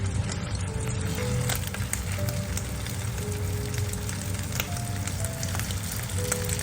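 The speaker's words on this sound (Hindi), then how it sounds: "देखिए जी, ऑयल गर्म हो चुका है। हम हाथ लगा के चेक करेंगे, जब ऊपर हीट आए तो हम साथ साथ इसमें कबाब डालते जाएंगे।" Peshawari beef chapli kebabs fry in hot oil over low heat, giving a dense, continuous sizzle and crackle that holds steady and close throughout, with no voices.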